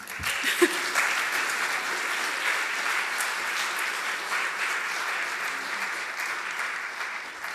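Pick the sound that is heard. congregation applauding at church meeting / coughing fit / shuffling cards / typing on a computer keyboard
congregation applauding at church meeting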